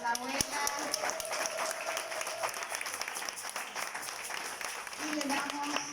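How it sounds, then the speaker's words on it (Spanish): Audience applause for a grandmother being honored at a talk on the Codex Borgia prophecy, a steady wash of clapping held for several seconds, moderately loud, with a brief tonal sound and voices mixed in. "Un aplauso grande para la abuela."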